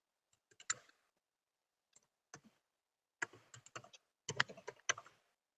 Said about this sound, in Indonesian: Nah, di sini kita akan input nama, semisalkan Seli Solomita.